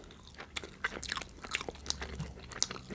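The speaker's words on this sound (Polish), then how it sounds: "Dobrze, mlaska." Close, quiet eating sounds of pizza: repeated wet lip smacks and crunchy bites at an irregular, unhurried pace, with no talking.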